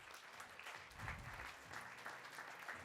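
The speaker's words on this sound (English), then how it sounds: "Please give him a round of applause." Audience applause at a civil rights champions awards ceremony, a faint, steady patter of many hands clapping continuously with no voices over it.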